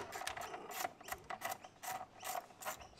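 Quick repeated ratchet clicking in short bursts as strut bolts are removed on a Ford Ranger, close and fairly quiet with brief pauses between strokes.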